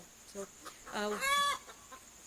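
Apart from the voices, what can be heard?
hen clucking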